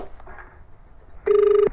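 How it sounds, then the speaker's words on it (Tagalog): A telephone rings through to a receiver in a residential subdivision, heard as one short, steady electronic ringback tone, clear and close after a near-silent moment. "tatawagan pa yung receiver ng telepono nila"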